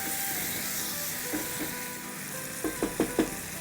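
A single eggplant frying in a pan over high flame hisses steadily. A few soft scrapes come first, then a quick run of four stirring taps near the end, close up and without voices.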